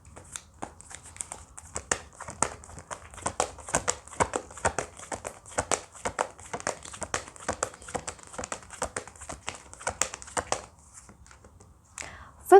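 Tarot cards shuffle and riffle in repeated crisp bursts, close and fairly quiet, with short pauses between runs and a louder knock at the end.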